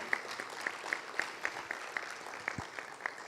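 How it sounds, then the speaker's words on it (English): Audience applause for a panel at a UN supply chain forum, heard as a sparse, fairly quiet patter of individual claps spread through the room rather than a dense ovation. "Please give a big round of applause"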